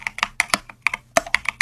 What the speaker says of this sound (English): There's my typing on the mechanical keyboard.